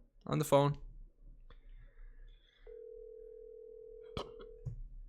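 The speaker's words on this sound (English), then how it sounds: "Let's give him a good old phone call on the phone." A phone call being placed: a quick tap, then a single steady ringback tone held for about two seconds, cut by a click, with a brief voice before and after.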